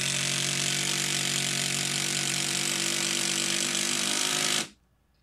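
A Hyper Tough brushed 12 volt impact driver hammers continuously at close range, a loud, dense rattling buzz held steady for over four seconds before cutting off abruptly into near silence.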